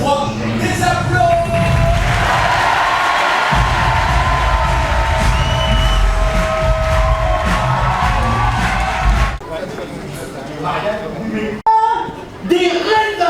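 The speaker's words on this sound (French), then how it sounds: "N'hésitez pas à réagir bien fort. 4, 3, les applaudissements" A talent show audience at a televised final erupts in loud sustained cheering, whooping and applause from a large crowd, dropping off near the end as voices talk over scattered clapping.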